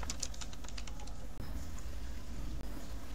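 Someone types quickly on a computer keyboard, a steady patter of light keystrokes over a faint background hum with no talking.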